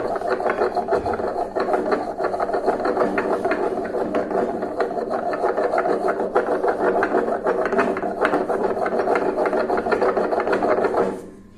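Stone ground hard against stone in a kharal, a heavy stone mortar: a continuous loud gritty scraping with a rapid, slightly ratcheting back-and-forth rhythm, unbroken for about eleven seconds before stopping abruptly.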